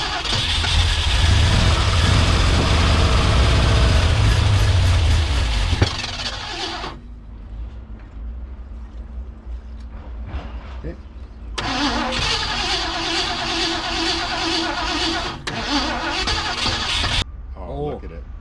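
An abandoned 1971 Ford Mustang pulled from a junkyard cranks and catches, running loud and rough for several seconds before cutting out and restarting, with people talking over it.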